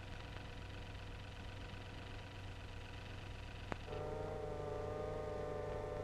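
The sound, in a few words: M4 tank turret motor running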